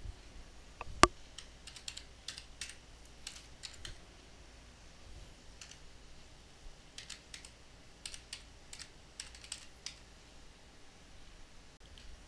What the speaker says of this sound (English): We're going to type in year.